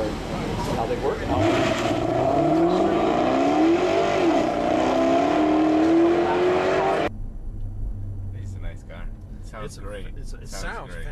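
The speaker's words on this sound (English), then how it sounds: "It sounds like a V8 should sound, no question about it." A supercharged V8 Jaguar XK RS launches hard in a 0-60 run, its engine note climbing steadily and loudly for several seconds before cutting off abruptly, followed by quieter moments with voices.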